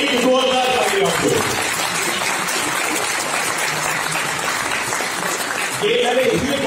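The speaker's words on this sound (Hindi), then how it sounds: "एक बार इस एक जोरदार ताली आपको।" A crowd at a DXN company training meeting in Chandigarh claps loudly and continuously. The dense applause runs throughout, and a speaking voice is heard faintly at the start and end.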